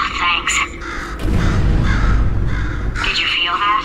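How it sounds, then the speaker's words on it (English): A crow caws several times in the Portal 2 video game, harsh and close, while a loud low rumbling tone runs underneath. "Could you, murder this bird for me?"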